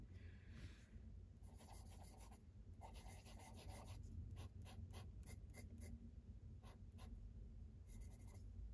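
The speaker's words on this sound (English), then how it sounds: "Now I have a big ink reservoir for this particular nib, and I can write with it longer." Scratching of a Karas Kustoms Vertex fountain pen fitted with a 3776 music nib writing on paper, a steady run of short rasping strokes close up and quiet, with no voices.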